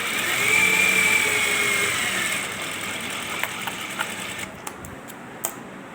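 Sewing machine running along the edge of an extra strip on a ladies' belt shalwar, a steady close whirring stitch for about two seconds, then quieter intermittent runs with small clicks and taps.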